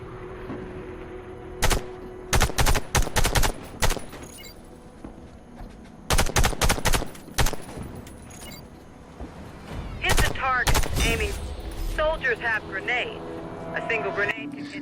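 Rifle shots ring out during a sniper training mission in the Warface video game, arriving as scattered sharp bursts and single cracks among quieter game noise.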